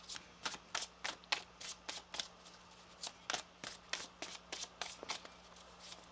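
Tarot cards are shuffled by hand in a quick run of about twenty crisp riffling bursts, close but quiet, with no talk.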